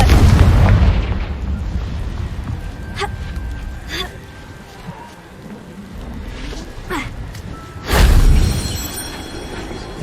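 Spell explosion in the Hogwarts Legacy video game: a loud booming blast at the start, fainter magical bursts and pops in between, then a second strong boom near the end.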